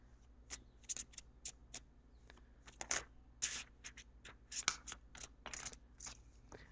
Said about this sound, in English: I am going to go ahead and shuffle for your outcome card.